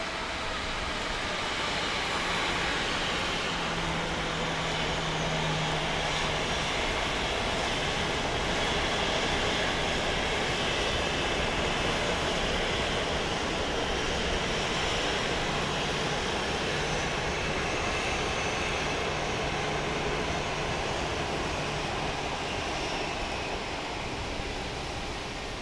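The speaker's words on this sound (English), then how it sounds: "the A300 is getting ready to take off" An Airbus A300 jet at Phoenix Sky Harbor airport roars steadily through a long takeoff run, a broad sustained engine rush that stays loud and even throughout.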